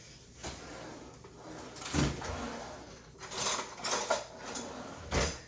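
A spoon is grabbed from a kitchen drawer while cooking meatloaf. There are several close clunks and rattles of the drawer sliding and metal cutlery shifting, separated by short pauses. No one speaks.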